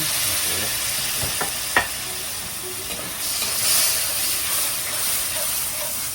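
Water poured into meat frying in a pan with salt, giving a loud continuous hissing sizzle with a couple of faint knocks early on.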